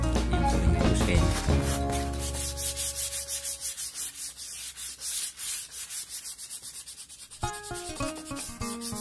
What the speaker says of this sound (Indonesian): Kita menggunakan amplas yang halus cc 320 yang paling halus kayaknya.